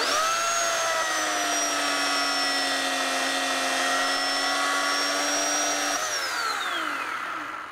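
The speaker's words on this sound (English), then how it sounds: "all I have to do is pull a lever to activate the built-in POWERSHARP system. I run it 3 to 5 seconds" A chainsaw's engine whines at steady high revs while its built-in POWERSHARP sharpener grinds the chain for several seconds, then the tone drops away as the saw winds down.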